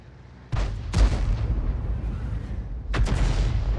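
Tank shells fired in an online tank battle game, lobbed over a ridgeline: three heavy booming shots at about 0.5, 1 and 3 seconds, each a sharp blast followed by a rolling low rumble.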